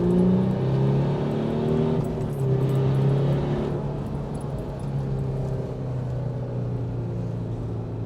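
A V6 pickup truck launches in off-road mode in second gear, its engine a loud, sustained drone that holds steady for about eight seconds with no break and no voices.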